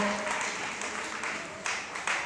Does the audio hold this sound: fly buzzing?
no